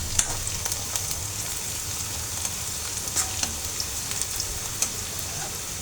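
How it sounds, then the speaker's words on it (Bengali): Onions frying in a pan on a home stove, a steady soft sizzle with scattered crackles and pops running throughout at moderate volume, no voices. "এই তো পেঁয়াজটা ভাজা হয়ে গেছে"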